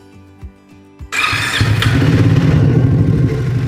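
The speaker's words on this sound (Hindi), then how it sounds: "मैं इसको स्टार्ट करता हूँ" A few soft clicks and cranking taps, then a Triumph Speed 400 motorcycle engine with over 5000 km catches and settles into a loud, steady running rumble close by.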